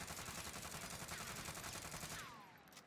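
Rapid automatic gunfire from a scoped Ironsight-equipped weapon in Warzone, a steady burst of shots lasting a few seconds before cutting off, fairly quiet overall with a short ringing tail.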